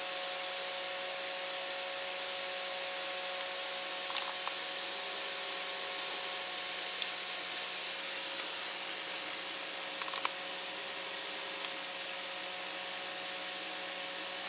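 Compressed air hisses steadily from an air compressor line beside a small CNC mill, a constant close rush with faint clicks, easing slightly in level near the end.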